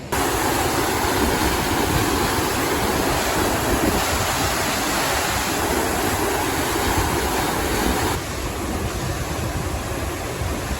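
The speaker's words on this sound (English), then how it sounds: "This is the Androscoggin River with the Androscoggin Dam right here." Water of the Androscoggin River rushes steadily past the Androscoggin Dam, a loud, continuous broadband roar that fills the whole stretch with no voices.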